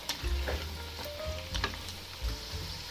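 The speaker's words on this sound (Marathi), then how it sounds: "हे भजे गॅसच्या मीडियम फ्लेम वरती तळून घ्यायचे, म्हणजे आतून बाहेरून व्यवस्थित सगळे तळले जातात" Sago fritters deep-frying in hot oil over a medium flame bubble and crackle continuously up close, with periodic low thumps and light stirring knocks as they are turned.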